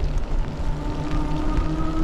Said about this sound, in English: It's just a relentless rain.